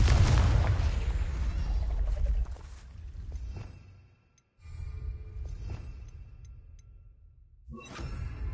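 A Confringo fire spell in Hogwarts Legacy bursts with a heavy boom, and its roar dies away over several seconds. Softer whooshing spell effects and small pops follow, then a sudden loud burst near the end.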